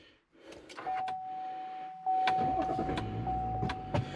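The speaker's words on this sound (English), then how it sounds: "I'll go ahead and turn the truck on" A 2021 pickup truck engine cranks and catches, rumbling to a steady idle after a few mechanical clicks and a thin whine, close and fairly loud.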